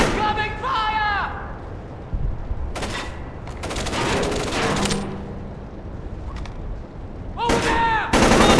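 Gunfire in the video game Splinter Cell Chaos Theory, with loud bursts of automatic shots and heavy impacts in several clusters, mixed with shouted character voices and combat effects.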